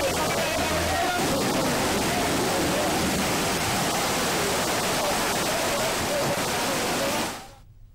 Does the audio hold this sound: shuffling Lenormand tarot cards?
no